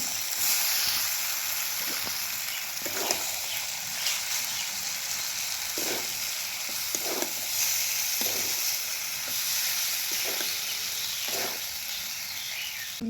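Boiled noodles frying with chicken in a pan give a constant close sizzle and hiss, broken by repeated scraping and stirring strokes every second or so, with no talking.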